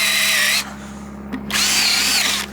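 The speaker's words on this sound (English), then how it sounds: "I may not need to do this, but I'm going to drill that out." A power drill bores into an old carpentry chisel in two loud, close bursts of high whine, separated by a brief pause.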